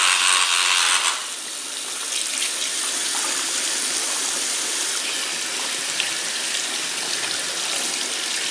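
Water runs steadily from a tap while parts of a Nintendo 64 Rumble Pak are rinsed. A close, continuous hiss of flowing water keeps going without a break after a short, slightly louder start.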